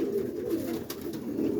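Birmingham roller pigeons coo softly inside a loft on a rainy morning, a low steady murmur of several birds close by with no talking.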